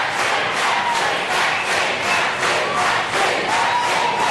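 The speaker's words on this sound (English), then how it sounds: "which cheering is coming from where Maxine McHugh is and which is coming from the tally room" A large crowd at the 2007 Australian federal election tally room cheers loudly and steadily, a dense roar of voices swelling in waves with no pauses.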